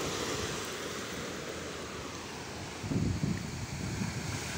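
Sea waves hit coral rock along a shoreline as a soft, continuous wash, with a brief low surge of surf partway through and no talking.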